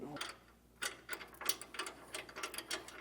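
A socket ratchet clicks in quick, uneven bursts while tightening an anti-sway bar bolt on a 2023 Ford E-Series cutaway. The clicks sound close and fairly faint, with short pauses between them.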